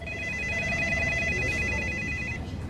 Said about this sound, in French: Les téléphones du cabinet d'avocats n'arrêtaient pas de sonner.